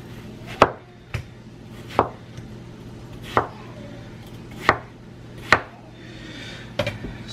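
A knife chops food into small slices on a cutting board, with about seven crisp, separate thunks spaced a little over a second apart, close and clear with no talking.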